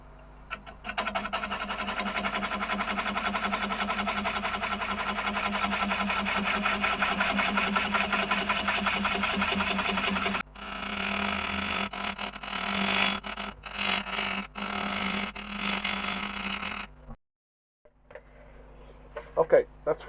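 A wood lathe spins a yew bowl blank while a skew chisel cuts a dovetail into its side, making a close, rapid chattering scrape that runs steadily, then breaks into shorter bursts before stopping.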